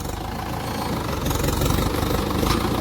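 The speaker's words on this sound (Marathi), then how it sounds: "आता येऊन जाते ट्रॅक्टर." A farm tractor's diesel engine rumbles close by on a field during sowing, a loud, steady low chugging that swells slightly as it approaches.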